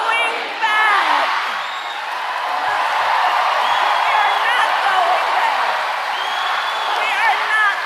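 A large rally crowd in Arizona chanting "We are not going back", a loud sustained roar of many voices with cheers and whoops rising and falling throughout.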